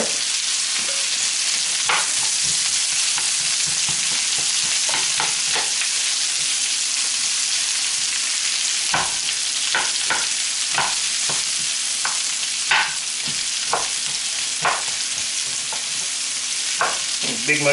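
Sliced vidalia onion and cremini mushrooms fry in a pan with a loud, steady sizzle, broken by repeated scraping and stirring clatters as a utensil moves them around.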